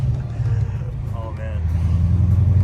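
A Corvette C6 with a widebody kit drives through a neighborhood, its engine rumbling low and steady and swelling slightly toward the end, with people talking faintly over it.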